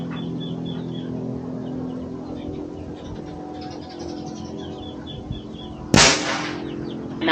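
An airgun fires real slugs through an MK barrel in outdoor target shooting at 70 meters. A single sharp report cracks near the end after a stretch of quiet ambient noise with faint birdsong.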